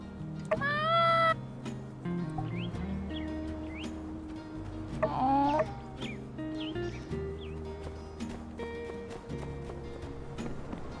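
A cat meows in the video game My Time at Sandrock, two distinct rising meow calls several seconds apart over game background music and ambient effects.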